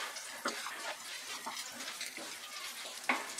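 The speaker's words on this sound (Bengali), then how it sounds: "মিডিয়াম আঁচে ফোড়নটাকে ফ্রাই করে নিলাম" Whole cinnamon, cloves, cardamom and cumin seeds fry in oil over medium heat, giving a steady soft sizzle with faint crackles and a few small pops.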